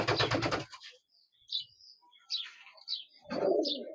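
Teddy pigeons kept in a cage give soft coos and brief chirps, scattered and fairly faint, following a short burst of a nearby voice at the start.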